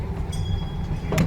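A small open choo-choo ride train at an outdoor town center rolls along on a hot day, a steady low rumble and rattle of the cars close by, with a brief clatter near the end and no talk.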